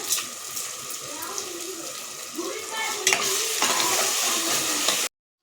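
Ginger paste and rock salt fry in an oiled pan with a steady, close sizzle and occasional stirring scrapes, continuing without pause until a sudden cut at the end.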